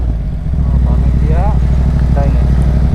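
An old motorcycle's engine drones steadily while riding, a constant low rumble close by, with a voice talking over it.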